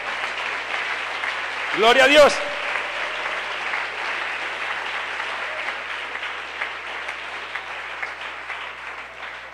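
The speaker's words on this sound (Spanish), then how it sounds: "¿Cuántos aplauden al Señor?" A church congregation claps through a sermon in steady, dense applause that carries on evenly, with a voice briefly calling out over it near the start.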